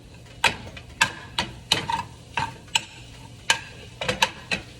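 Chorizo cooking in a pan: a low sizzle runs underneath while sharp scraping and stirring clicks strike roughly every half second to second, close and moderately loud.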